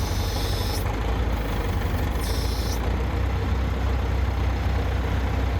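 A heavy engine idles with a steady low rumble, and two short bursts of air hiss from a brake cut in over it.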